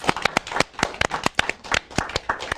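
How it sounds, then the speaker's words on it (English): A few people clap in a round of applause for a finished book during an interview, sharp separate claps in an uneven rhythm, close and clear. "So big round of applause."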